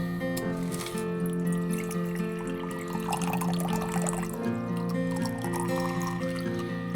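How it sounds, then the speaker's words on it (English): A cocktail strained from a cracked shaker, with the liquid trickling past the ice and dribbling steadily into a glass for several seconds, under continuous background music. "crack it just enough to let the liquid through, but not let the ice through"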